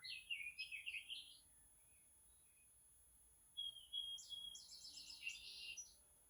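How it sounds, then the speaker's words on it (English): Recorded birdsong plays indoors in two short bursts of high, rapid chirps and trills, separated by a quiet pause and heard softly with no one speaking. "I got the birds on for Tiger, but he's sleeping."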